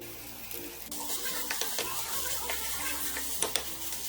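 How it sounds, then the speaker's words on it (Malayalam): Samosa filling is stirred in a pan over a high gas flame, with a soft continuous sizzle and scattered spoon scrapes and taps against the pan, fairly quiet and close. "ഞാനിവിടെ ഹൈ ഫ്ലെയിമിൽ ഇട്ടിട്ടാണ് ഇപ്പോൾ ഇത് മിക്സ് ചെയ്തെടുക്കുന്നത്."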